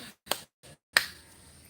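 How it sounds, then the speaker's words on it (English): Hands clap sharply during a Pilates session at a retreat in Bali, with two or three quick, close snaps in a quiet room. "Clap. Clap."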